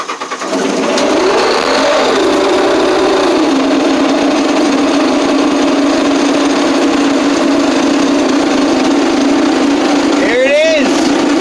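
A 1980 Case 480D diesel, plugged in, cold-starts at 0°F: it cranks briefly, then catches and settles into a loud, steady, rough-running drone that continues throughout, with a short voice heard near the end.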